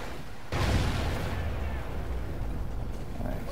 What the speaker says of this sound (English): chuck a grenade out there